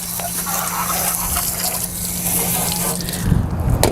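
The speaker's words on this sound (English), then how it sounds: "we're going to wash until you can see clear water coming out the other side" Steady rushing water from a hose sprays continuously at close range while washing a car after a beach trip, a dense hiss that grows more splashy and uneven near the end.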